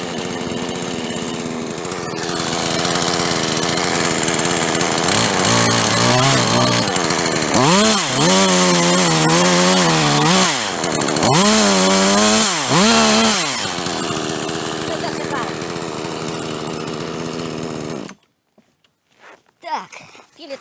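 A Husqvarna 120 Mark II chainsaw runs steadily near the mic, its engine rising and falling in pitch as it bites, then cuts off abruptly, leaving quiet with a few faint knocks.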